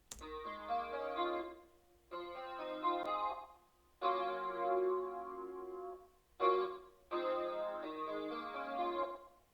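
Arpeggiated synthesized guitar-style chords, with EQ cutting the low end and stereo widening, for a vintage ambient beat. Soft, bright notes ripple through several chord phrases separated by short gaps.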